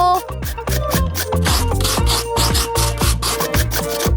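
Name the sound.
grating cheese on a miniature grater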